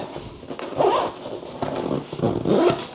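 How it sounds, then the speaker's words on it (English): Zipper on an Aer City Pack 14L backpack closes over a stuffed hoodie, several quick rasping pulls in uneven bursts, close and clear with no talk. "and zip it up,"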